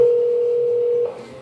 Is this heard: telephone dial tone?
yes